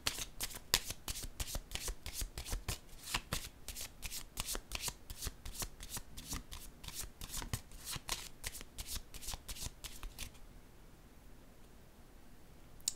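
A tarot deck being shuffled by hand, rapid rhythmic riffles and card slaps repeating close up for about ten seconds before stopping, with no talking.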